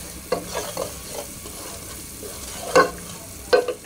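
Coriander powder being stirred into mutton leg soup in a pan, a steady sizzle broken by a few sharp spoon scrapes and knocks, close and clear with no talking.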